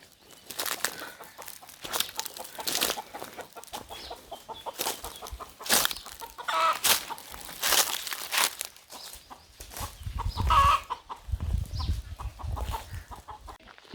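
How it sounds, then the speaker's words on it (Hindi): A hen with four or five chicks clucks in a Bengali village in Chhattisgarh, her soft calls scattered through the clip amid outdoor noise, bursts of wing flapping and rustling, with no talk. "इस मुर्गी के 4-5 बच्चे हैं।"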